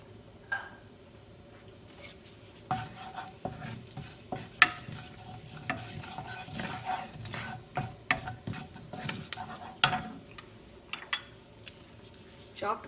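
Cumin and mustard seeds sizzle and crackle in olive oil, with quiet, irregular popping and stirring clicks close by, and some talking in the background.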